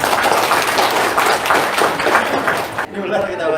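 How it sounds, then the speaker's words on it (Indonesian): Dense, loud audience applause at an Indonesian business testimony seminar fills most of the moment, then cuts off abruptly as a voice carries on. "Tepuk tangan dulu dong."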